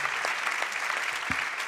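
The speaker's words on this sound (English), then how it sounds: "that's cool that you guys clap for my cymbals" Audience members clap at a drum festival clinic for a drummer's Gretsch kit cymbal demonstration, a brief, steady burst of many hands close by with a couple of low thumps underneath.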